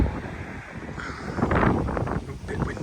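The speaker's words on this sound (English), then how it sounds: "Bit windy outside, let's get back in the cab." Gusty wind buffeting the microphone outdoors beside a Valtra tractor, a loud roaring rumble that swells and eases, with a voice talking over it.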